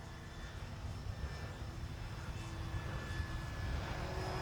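A Flex Innovations RV-8 G2 Blue Knight RC plane on a 6S battery flies with a steady, moderately distant motor drone that holds even and unbroken.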